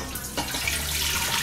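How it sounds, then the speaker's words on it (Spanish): Tap water running into a cooking pot for a Thanksgiving turkey, a steady close splashing rush that holds at a fairly even level throughout, with no voices. "Le agregas un cuarto de agua"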